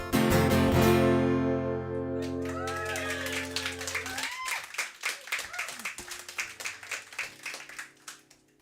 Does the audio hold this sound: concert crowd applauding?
yes